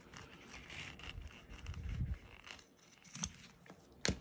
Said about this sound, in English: Super sharp applique scissors.